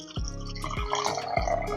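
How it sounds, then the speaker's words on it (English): Chicken broth pours into a small blender in three short splashing bursts, each a close liquid gush dropping into the jar, heard alone without talk. "I'm just going to pour a little bit of some chicken broth."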